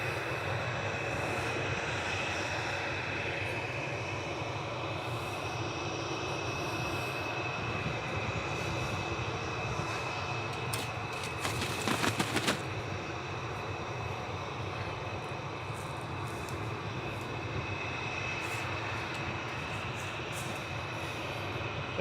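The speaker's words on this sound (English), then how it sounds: "Next in is Aer Lingus Giddy coming in from JFK, New York, A330-300." Aer Lingus Airbus A330-300 arriving at Manchester Airport from JFK, a loud continuous jet engine roar with whining tones, steady throughout and fairly close, with a brief rattling burst midway.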